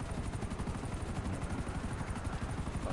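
Continuous rhythmic rotor chop of a helicopter in GTA Online, loud and steady throughout with no talk.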